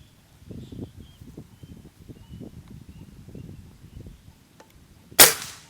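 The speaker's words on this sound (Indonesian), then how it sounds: "Kita mulai tembakan pertama." A single sharp PCP air rifle shot cracks near the end, loud and close, after several seconds of soft shuffling and handling noises.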